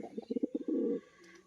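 A male crested pigeon coos close by, a short burst of rhythmic throaty pulses that runs into a sustained rolling coo before fading, faint and alone.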